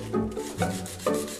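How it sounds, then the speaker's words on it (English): Fine sandpaper rubbed over a wooden chair makes three short, soft rasping strokes in a steady back-and-forth rhythm, quiet and close with nothing else heard. "One of the first things you can do to restore wood is to clean it up by sanding it down."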